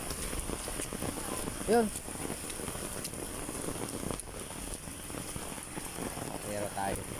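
Steady rain falling and pattering on surfaces outdoors, a dense continuous hiss that carries through the whole stretch while people talk briefly under it.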